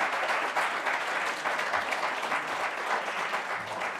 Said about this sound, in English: So I wonder if we could give them a round of applause also.